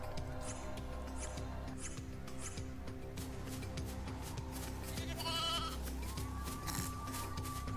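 Sheep bleat from a Final Fantasy XIII-2 game scene over steady background music and game effects, with a few short bleats standing out in the middle of the continuous soundtrack.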